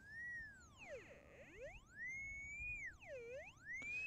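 Magnetic locator emitting a pure electronic tone that glides smoothly up and down in pitch, dipping low as the detector passes beyond the edge of a buried magnetic target; clear and alone, with faint background hiss.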